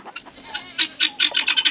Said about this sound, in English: I'm so tired of catching chickens.